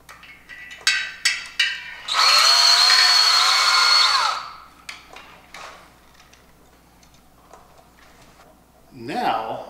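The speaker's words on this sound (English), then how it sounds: "Bring in the drill." A power drill runs loudly for about two seconds, mixing wine must, whirring steadily, set between scattered clicks and handling noises, with a brief burst of sound near the end.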